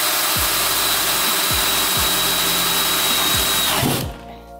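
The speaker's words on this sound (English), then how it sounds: "Use a 3/16 bit and drill a hole straight through the valve body." A power drill with a 3/16 bit bores straight through a 4L80E transmission valve body using a plate as a guide. The close, loud whine dips in pitch several times as the bit bites, then stops abruptly after about four seconds.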